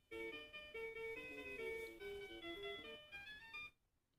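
VTech V.Baby Infant Development System toy from 2009 playing a clear electronic chiptune melody of bright, steady beeping notes for about three and a half seconds before cutting off, fairly close with no talk.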